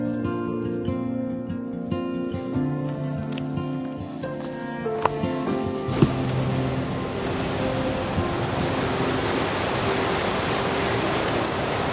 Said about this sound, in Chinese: 我们现在身后就是老龙口瀑布